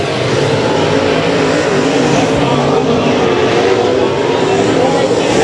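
A race car running at night at Rocky Hill Speedway during Turkey Shootout heat races, a loud sustained engine roar, steady and close, with voices talking over it.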